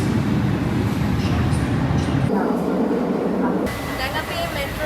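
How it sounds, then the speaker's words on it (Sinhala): Lisbon metro train interior noise, a loud steady rumble and rattle of a moving underground carriage that shifts in tone partway through, with people talking faintly in the background. "දැන් අපි මෙට්‍රෝ ලයින් එකෙන් ඇවිල්ලා බහලා කෝච්චිය ගන්න යන්නේ"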